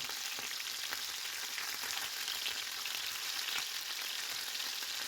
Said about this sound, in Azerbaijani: Yağ tam qızdıqca balığı yerləşdirirəm.